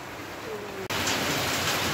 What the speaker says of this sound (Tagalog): sobrang lakas ulit ng ulan